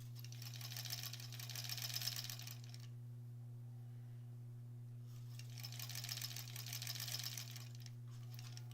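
A sewing machine stitching quilt block seams in two bursts of rapid, even needle chatter, stopping briefly between them over a steady low motor hum.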